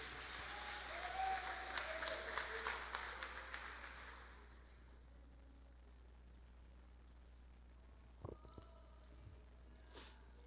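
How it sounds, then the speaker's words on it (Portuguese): Church congregation applauds for Jesus during an evening service, a fairly quiet wash of clapping for about four seconds that fades out, followed by near silence with a couple of faint knocks. "Você pode dar uma salva de palmas para Jesus nesta noite?"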